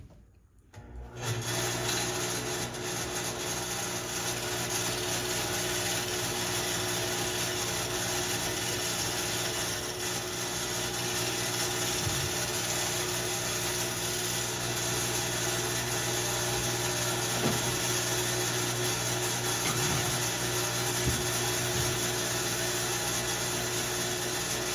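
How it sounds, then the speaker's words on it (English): A steady, loud, continuous whir comes from a wood lathe spinning a platter while a scraper touches up the surface, with a constant hum and faint cutting texture throughout and no talk. "Now I'm just going to touch it up with the scraper."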